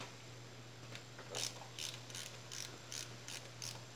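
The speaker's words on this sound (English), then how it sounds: "use a ratcheting wrench to get in here, and it makes that a little easier" A ratcheting wrench works on bolts of a KLR650 motorcycle engine during a valve clearance check: a series of quick, close ratchet clicks in short regular bursts over a low steady hum, quiet and without talk.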